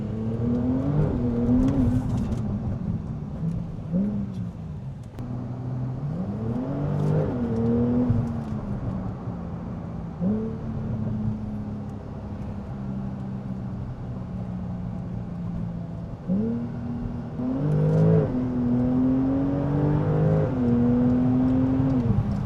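A Porsche 911 Turbo S accelerates hard, its engine note sweeping up through the gears in repeated rising runs with brief shift dips, loud and close as if heard from inside the car.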